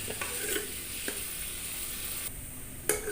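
Onions sizzling steadily in a hot pan as they fry toward brown for an aloo matar gobhi dish, with occasional stirring scrapes and a sharper clink near the end, no voices.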